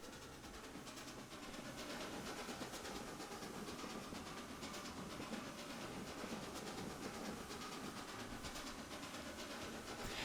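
A train in the video game Transport Fever 2 rumbles steadily along the rails with continuous rolling clatter and hiss, no voices.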